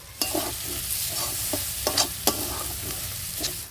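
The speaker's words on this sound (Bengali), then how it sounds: "এবার দেব আদা বাটা, দেব টমেটো কুচি, এবার দেব হলুদ গুঁড়ো, এবার দেব লঙ্কা গুঁড়ো" Ginger paste, chopped tomato, turmeric and chilli powder frying in a pan for a quick biryani, steady sizzle broken by several sharp spoon scrapes and stirring strokes, close by with no talking.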